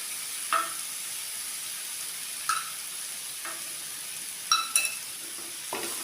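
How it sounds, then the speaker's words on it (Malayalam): Boiled tapioca being stirred with salt in a pan, giving a few sharp scraping clicks of a spoon against the pan, spaced irregularly over a faint steady sizzle. "ഇത് നന്നായിട്ട് ഇളക്കി യോജിപ്പിക്കാം."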